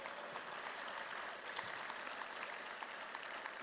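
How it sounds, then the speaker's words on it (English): An audience at a political summit applauds a state senator, a faint, distant wash of steady clapping. "You could give him a round of applause."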